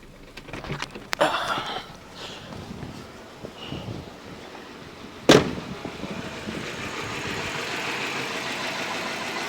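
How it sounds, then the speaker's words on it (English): A Nissan Pulsar N15 with a 1.4-litre GA14DE engine, restarted after ten years and misfiring on three cylinders, runs roughly under steady wind noise, with a couple of sharp knocks partway through. "it started on like, it must be on 3 cylinders now"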